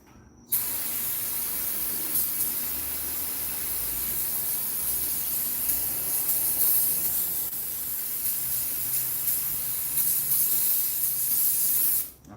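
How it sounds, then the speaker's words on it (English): Brake cleaner sprays from an aerosol can in one loud, unbroken hiss that lasts about twelve seconds, close to the mic, with no talking. "I plan on going through an entire case of brake clean"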